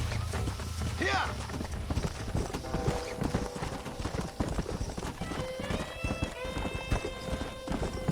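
Horses in the Red Dead Redemption video game clopping along at a walk, steady hoofbeats with a whinny early on, set against music and talk.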